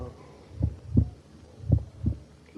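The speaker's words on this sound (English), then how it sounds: "Listen to the heart beat its last beats." Slow thudding heartbeats in a radio drama adaptation of The Tell-Tale Heart, four deep low thumps in uneven pairs over a faint hum, close and fairly loud with no voices.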